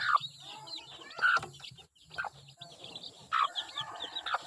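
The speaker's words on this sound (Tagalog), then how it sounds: "Chicken" A mother hen with her chicks clucks and chirps in short, scattered calls close by, with soft peeping between the louder clucks and a brief human voice in the background.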